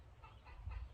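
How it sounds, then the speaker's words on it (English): Faint chickens cluck softly in the distance over a quiet morning garden background. "You can hear the chickens in the background."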